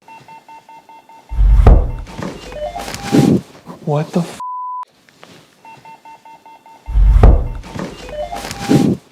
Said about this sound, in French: il capture un bruit sourd juste au-dessus d'eux qui semble aussi presque menaçant